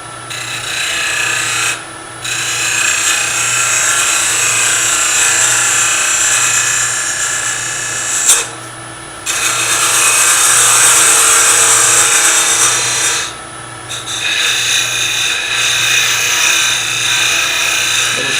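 A wood lathe turns a miniature piece as a bowl gouge cuts into it, giving a steady close rasping scrape over a low motor hum, broken by several short pauses between passes.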